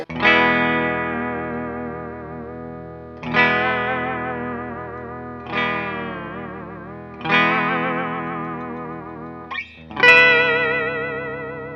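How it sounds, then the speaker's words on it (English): Five distorted electric guitar chords ring out one after another, each pitch dipping and wavering as the bar bends it, with a quick pick scrape before the last. "Whammy describes it perfectly, gives it a whammy sound"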